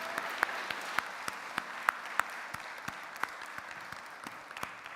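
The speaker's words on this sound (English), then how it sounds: "Can we give our big round of applause to Charlene and the boys and girls?" Sustained applause from a primary school harvest service audience, a steady bed of many hands with a few sharper individual claps popping out near the front, fading slightly toward the end.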